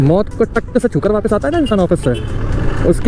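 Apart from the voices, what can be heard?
No everyday noise stands out behind the speech.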